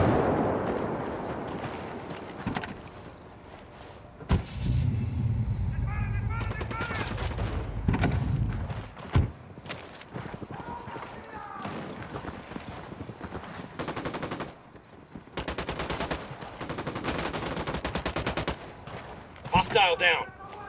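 Gunfire rings out from inside a bunker in Ghost Recon Wildlands, repeated sharp shots and rattling bursts at varying distance amid other game noise and occasional voices.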